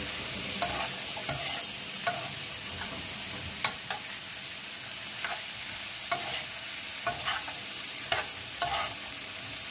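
Bitter melon (ampalaya) sautéing in a pan, with a steady oily sizzle broken by sharp clicks and scrapes of a spatula stirring every second or so, close and alone.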